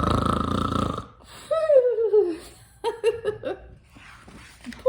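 A child imitates a horse snoring, making a short burst of rough, drawn-out throaty noises and snorts after a moment of speech, close and fairly loud.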